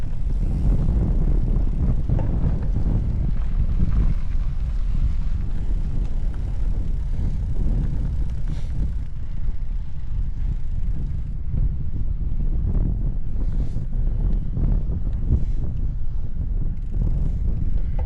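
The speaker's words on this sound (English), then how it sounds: "ooh, that wind! I just got pushed around by that crosswind." Strong crosswind buffets a rider on a road bike with SRAM Rival AXS gearing, a loud continuous low roar and rumble of wind noise that stays steady throughout without any talking.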